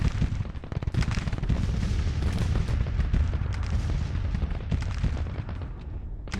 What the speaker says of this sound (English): Guns are firing, but I need to move them up closer.